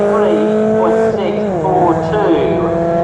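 MG race cars at Snetterton during an MGCC MG Cup race, engines loud and sustained with pitch shifts as they drive past and change gear, under a commentator's voice.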